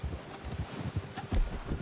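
A horse's hooves clip-clop in Red Dead Redemption 2, a quick run of soft, muffled thuds in an even trotting rhythm over light wind.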